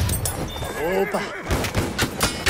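A horse whinnies in the First World War shooter Battlefield 1, a wavering neigh rising and falling over game noise, followed by sharp gunfire-like bursts and thuds.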